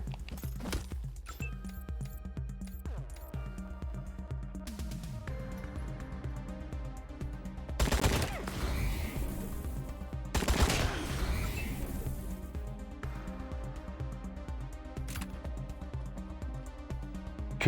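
Gunfire in the Fallout video game: two loud, noisy bursts of shooting break out near the middle, set against steady game music and ambient hum that continue throughout.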